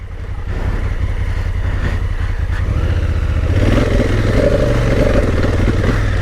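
A new motorcycle of roughly 95 horsepower is ridden, its engine droning loud and close with a steady throb that swells slightly toward the end, as if gaining revs.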